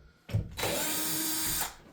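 A power drill drives a screw into drywall during a bedroom wall patch repair, one close, steady whirring burst of about a second, with no voices.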